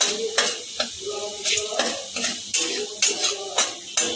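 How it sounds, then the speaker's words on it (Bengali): Ginger and garlic fry together in a pan for a Schezwan jackfruit dish, a steady close sizzle broken by regular clinks and scrapes of a spatula stirring against the metal. "আদা আর রসুনটা একসাথে দিয়েছি, ওটা ভাজা হয়ে গেছে"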